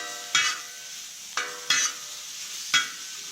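Migas with corn chips cooking on a cooking disc, with a faint steady sizzle and four distinct scraping strokes of a utensil stirring across the metal, no voices.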